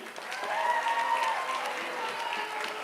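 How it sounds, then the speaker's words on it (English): An audience at a children's Christmas science show applauds for a young participant, with steady crowd clapping throughout and a faint tone and voices mixed in. "let's get a round of applause for Kaylee"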